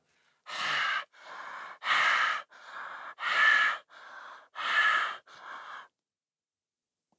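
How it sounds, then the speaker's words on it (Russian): Forceful breathing exercise with full inhales and exhales pushed from the base of the throat, eight strong breaths in steady alternation, loud and close, with no talking. "Делайте полный вдох и выдох, издавая звук из основания горла."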